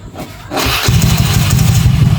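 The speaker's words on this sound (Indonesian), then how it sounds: "Motor hidup sendiri ya." A motorcycle engine started by a remote starter cranks briefly and catches, then settles into a loud, close, steady idle with a pulsing low rumble.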